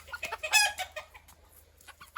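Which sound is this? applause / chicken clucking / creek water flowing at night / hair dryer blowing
chicken clucking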